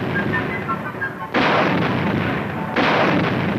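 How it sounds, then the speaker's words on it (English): High-velocity 90mm guns on M48 tanks in the Mojave fire two separate, very loud booming blasts about a second and a half apart, each one leaving a long rolling roar. "high-velocity 90mm gun they have on these M48s really makes"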